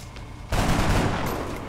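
Soldier in XCOM: Enemy Unknown opening fire on an alien, a sudden loud burst of gunfire that erupts after a quiet moment and rattles on as a dense, sustained volley.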